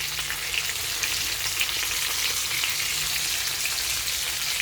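Vegetables fry in a pan with a steady, close hiss and crackle of oil throughout, with no talking.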